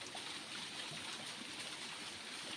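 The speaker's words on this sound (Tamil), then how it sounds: "இப்போவே தண்ணி வந்து குறைஞ்சி தான் கொட்டிகிட்டு இருக்குது" The Kollimalai secret falls in a low-water period pour down in a steady, soft rushing hiss, faint and continuous with no other sounds.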